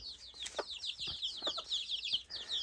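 Several young chickens cluck and cheep steadily in a backyard coop, a busy overlapping chatter of soft calls with occasional louder squawks, close by and with no talking.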